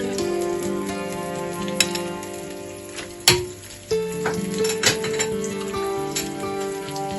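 Four finely chopped green chillies sautéing in hot oil, a steady close sizzle with a few sharp pops and crackles, no voices over it.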